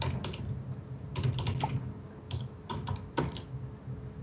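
Quiet, quick keystrokes on a computer keyboard as a password is typed, irregular bursts of close clicking with short pauses, no voices.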